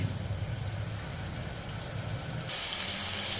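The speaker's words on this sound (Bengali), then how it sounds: "দেখো জল দিয়ে 2 মিনিট মশলাটাকে কষিয়ে নেব, 2 মিনিট।" Masala spices frying in a pan with water added for a mutton curry give off a steady, loud sizzling hiss with a low rumbling bed. The sound continues unbroken at close range, with no speech.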